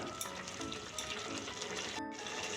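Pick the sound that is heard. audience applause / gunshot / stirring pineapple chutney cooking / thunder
stirring pineapple chutney cooking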